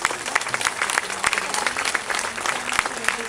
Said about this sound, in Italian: accogliamo con un applauso anche